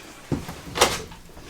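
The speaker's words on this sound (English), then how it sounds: "There is a farm style door right here" A farm-style sliding door in an Alliance Avenue travel trailer rolls along its track with a soft knock at the start and a brief rushing slide, close by and quiet.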